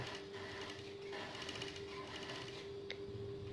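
A sewing machine runs steadily, stitching around the neckline of a batik tunic with a constant close mechanical whir and hum, without a break and with no talking.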